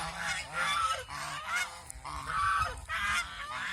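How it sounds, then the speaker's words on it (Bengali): Large domestic ducks on a farm give a steady run of loud, close, nasal honking calls that overlap and repeat throughout. "এই যে এখানে আরো কয়েকটা হাঁস আছে, এই যে ছেলে হাঁস আছে।"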